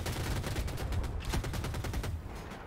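Rapid gunfire from the left side of a helicopter-focused match in a shooter video game, a dense loud burst of repeated shots running continuously without talk.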